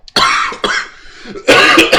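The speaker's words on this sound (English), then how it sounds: "say that as I start to cough because I've had a cold for a week" Several harsh coughs from someone with a cold, close to the mic, two bursts separated by a brief pause with a rougher throat-clearing sound in between.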